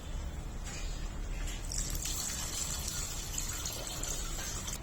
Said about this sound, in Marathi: इथे मी दोन ग्लास पाणी घातलेलं आहे